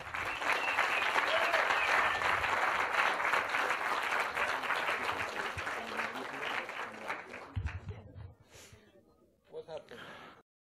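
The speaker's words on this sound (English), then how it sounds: "Big applause." Loud, dense audience applause right after a volunteer's microchip implant at a 2015 Paris event, holding strong and then thinning out into scattered claps, with a few brief voices and noises at the close.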